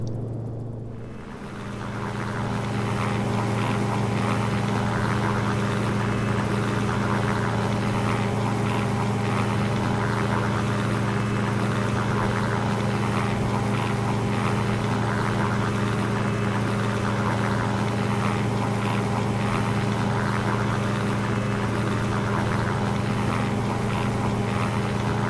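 Cicaré helicopter in the X-Plane 11 flight simulator cruising near 100 knots, a steady loud rotor and engine drone with a constant hum, unbroken for the whole stretch.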